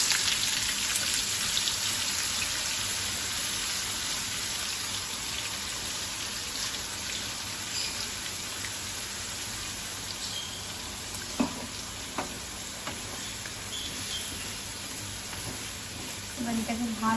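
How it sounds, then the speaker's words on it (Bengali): A paste of coconut, ginger, onion and sour yogurt hits a hot frying pan, a steady sizzling hiss with scattered crackles and a few scraping clinks, running on alone with no voices. "নারকেল, আদা, পেঁয়াজ আর টক দইয়ের যে পেস্টটা বানিয়েছি সেটা এবার দিয়ে দিচ্ছি"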